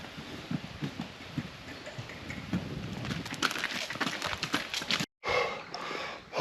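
A horse near Alicante, Spain, clip-clops with irregular hoof thuds over noisy outdoor ambience, fairly close, with a brief dropout near the end.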